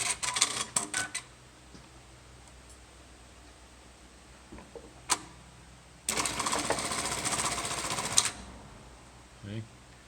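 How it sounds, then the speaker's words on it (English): Juki LK-1900B industrial bartack sewing machine running, with a dense, loud two-second stitching burst following scattered mechanical clicks and knocks, and a voice talking nearby. "first let's just see this machine working"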